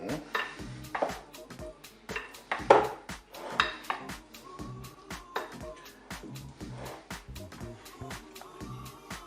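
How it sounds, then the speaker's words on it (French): Utensils toss a potato salad in a dish, a string of irregular clinks, scrapes and taps of cutlery against the bowl, fairly close and quiet with no talk. "On mélange délicatement."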